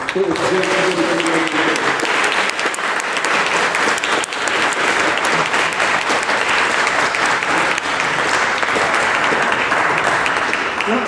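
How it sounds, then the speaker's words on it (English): A debate audience bursts into a round of applause for the speakers, steady dense clapping filling the room, loud and sustained throughout, with no talk over it. "I think we should give them all a round of applause"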